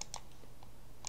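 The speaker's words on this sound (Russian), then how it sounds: "Теперь на клавиатуре нажимается клавиша, что будет вверх." Keyboard keys pressed a few times on a PC during emulator setup, light sharp clicks spaced apart, close and quiet with no talk.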